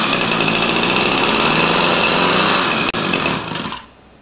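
A small two-stroke string trimmer engine runs steadily at a high, buzzing idle close to the microphone, a brief hiccup near the end before it cuts off and falls silent.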